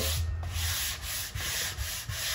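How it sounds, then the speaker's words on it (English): Close, loud rasping of sandpaper rubbed back and forth over a wooden Les Paul-style guitar body in steady strokes, with no talking. "we're gonna keep sanding it down until we're satisfied"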